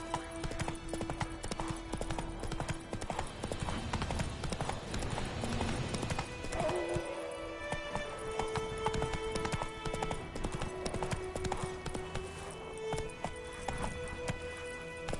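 Horse Roach galloping in Witcher 3, a steady rapid clip-clop of hooves running close and continuous throughout, with game ambience and occasional background tones layered underneath.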